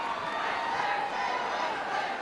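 An excited arena crowd at a Netball World Cup semi-final between England and New Zealand roars in a steady, loud, continuous wash of cheering, with a voice faintly mixed in.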